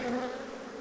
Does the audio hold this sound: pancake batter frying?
no